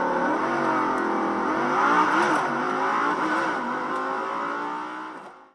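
A small autonomous robotic race car drives past close by, its electric motor giving a steady whirring hum that rises slightly in pitch before fading out at the end, with no voices.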